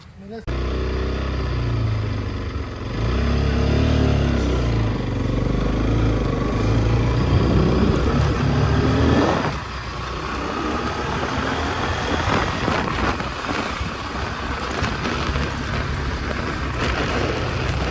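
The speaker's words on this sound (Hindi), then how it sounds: "मैं एक बार चला के बताता हूँ कि ये कितना पावर डिफरेंस है।" A 2015 Bajaj NS 200 BS3 motorcycle is ridden, its close engine rising and falling in pitch through several throttle pulls and gear changes, with a rider talking over the engine noise.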